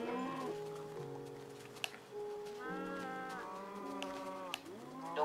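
A cow mooing in the Minecraft video game, several drawn-out, tonal moos following one another in quick succession, clear and fairly close, with no talk over them.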